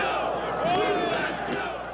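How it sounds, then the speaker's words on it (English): Football fans at a snowy outdoor 1989 Ottawa game roar and cheer as snow removal equipment works the field, a loud sustained crowd din with shouting voices throughout. "wait until you see them cheer on the snow removal equipment"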